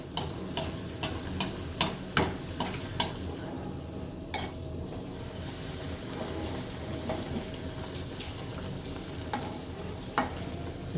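Poori frying and puffing in a pan of hot oil, a steady soft sizzle with sharp ticks and clicks scattered throughout, heard close with no voices.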